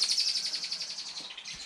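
Birds chirp and tweet steadily in a quick repeating pattern, moderately close and clear, with no talk over them, in a home workshop where a Honda VFR800 motorcycle is being worked on.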